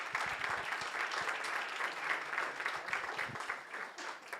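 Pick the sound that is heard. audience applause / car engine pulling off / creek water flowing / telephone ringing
audience applause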